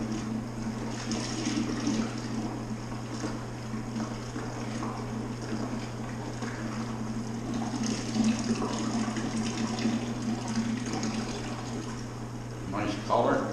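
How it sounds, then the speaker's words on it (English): Raspberry puree poured into a batch of home-brewed beer, a continuous splashing, gurgling flow of liquid held steady for many seconds over a low constant hum, with faint voices in the background. "and in goes the puree"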